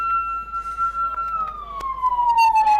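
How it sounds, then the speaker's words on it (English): An ambulance siren wails loudly and close, a steady tone gliding slowly downward, at an emergency-response training exercise, with crowd noise and clatter underneath. "The ambulance is here in record time, courtesy of our trained EMTs."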